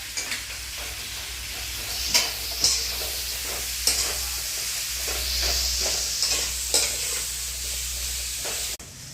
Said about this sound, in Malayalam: അപ്പൊ ആ വറുക്കാൻ നേരം നമ്മള് സബോളയൊക്കെ ഇട്ട് കൊടുത്തിട്ടുണ്ട്